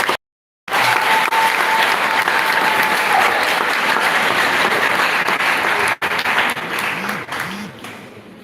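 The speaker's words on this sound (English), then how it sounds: "I believe they deserve another applause" Sustained applause from the audience at a senior high school agricultural quiz competition, loud and dense for several seconds with a brief break near the start and another dip before fading toward the end.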